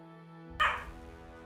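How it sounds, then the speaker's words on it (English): A dog named Fawn lets out a single sudden yip, fairly close and sharp, with a short tail of room noise after it and a steady hum underneath. "Fawn just yipped for no reason."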